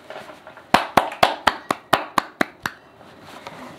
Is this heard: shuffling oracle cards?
no